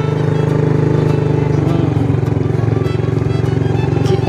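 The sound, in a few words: motorcycle engine running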